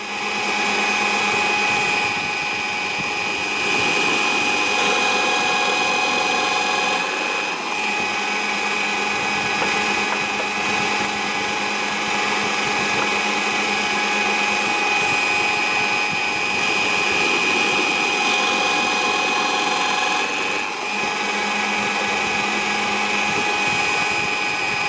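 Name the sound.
drill bit drilling holes through wood coasters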